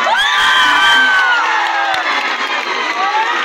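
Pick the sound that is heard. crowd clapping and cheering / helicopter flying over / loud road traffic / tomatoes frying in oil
crowd clapping and cheering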